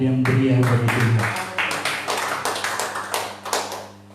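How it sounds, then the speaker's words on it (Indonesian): Church worshippers at a congregational service break into rhythmic, crisp applause that carries on for several seconds. A voice speaks briefly at the start before the clapping takes over. "Berikan tepuk tangan yang meriah bagi Tuhan."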